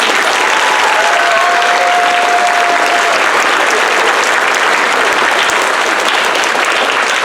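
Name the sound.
applause at a Veterans Day program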